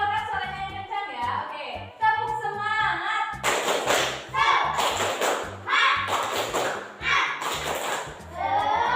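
Schoolchildren perform the tepuk semangat clapping chant, sharp rhythmic clap patterns punctuated by loud group shouts, after a teacher speaks, close and energetic.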